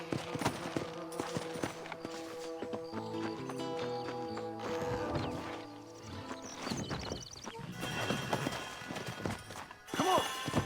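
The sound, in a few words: horse hooves in Red Dead Redemption video game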